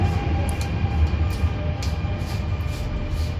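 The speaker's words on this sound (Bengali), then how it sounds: "আমাদের মেট্রো চলে আসছে" A metro train rumbles steadily into a station with a low, continuous roar and faint higher whines, no voices present.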